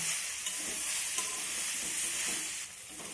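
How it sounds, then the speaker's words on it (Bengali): Mixed vegetables with Maggi masala stirred and fried in a pan, a continuous bright sizzle with scraping stirring noises close by, no voices. "মশলাটা এখন সবজির সঙ্গে খুব ভালো করে নেড়ে মিশিয়ে নেব"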